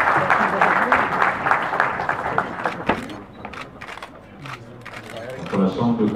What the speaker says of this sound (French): Vous pouvez les applaudir, deuxième convention signée.